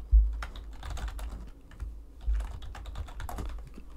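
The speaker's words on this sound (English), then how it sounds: "a little bit of typing ASMR for you" Computer keyboard typing plays as ASMR, a soft, quiet run of irregular key clicks with short pauses and a low thump now and then.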